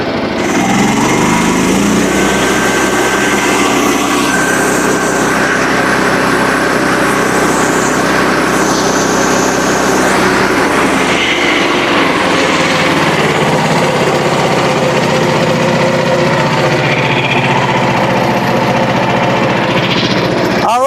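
A Frontier sawmill engine runs steadily with its cabinet open, giving a loud, continuous mechanical drone with a constant roar and rattle throughout and no break in the sound.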